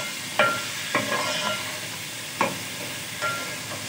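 Garlic and ginger frying in a pan while being stirred, a constant oily sizzle broken by four or five sharp scraping strokes of the spoon, close and moderately loud, no speech.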